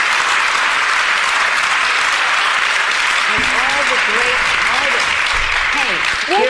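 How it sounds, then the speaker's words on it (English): A crowd applauds steadily throughout, dense clapping filling the room, while a voice starts speaking over it partway through. "there were a lot of people clapping when she said all this"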